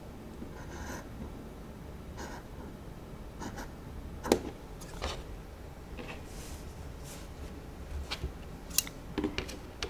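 Scissors snipping away excess fabric while sewing shorts, a scattered series of close, crisp cuts and clicks over a quiet background.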